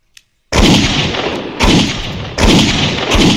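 Video game gunfire aimed at an enemy's head, three loud, sharp booming shots roughly a second apart, each with a long reverberating tail, after a brief near-silence.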